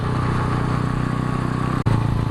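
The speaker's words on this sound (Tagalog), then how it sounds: "Bagal na tayo guys dahil mahina ang ating motor." Motorcycle engine droning steadily as the bike rides slowly, with a brief dropout near the end before the loud, close running note resumes.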